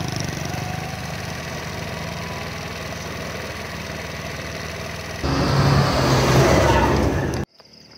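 A motorbike ridden by hunters idles steadily nearby at a rural roadside spot before dawn, then its engine noise swells louder for a couple of seconds and cuts off abruptly as it stops.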